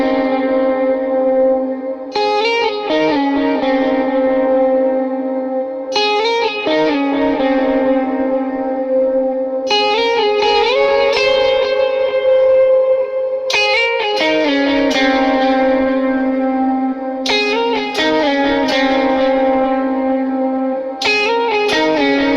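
Electric lead guitar played through echo, distortion and reverb effects, with bursts of picked notes and slides repeating in phrases every few seconds, loud and sustained with ringing repeats trailing each line.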